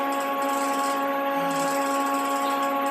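A Haas CNC milling machine jogs its Z axis downward in fine increments, giving a steady, even electric whine with a humming drone underneath and no pauses.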